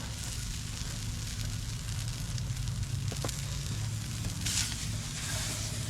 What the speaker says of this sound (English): we're gonna add some breakfast sausage to the pan. Brown it up.